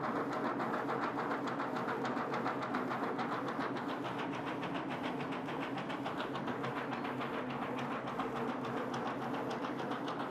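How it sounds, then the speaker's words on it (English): A rotary powder dusting unit on an industrial DTF printer runs continuously, giving a fairly quiet, even mechanical whir with a fast rhythmic clatter and no speech over it. "be sure the dusting system is rotary with good speed"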